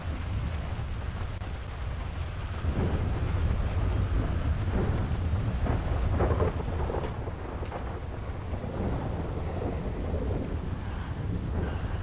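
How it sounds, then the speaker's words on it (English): In a video game, steady rain hisses over a deep rumbling wash of thunder, loud and continuous, with a brighter whine rising near the end. "Oh, it's raining. It's raining."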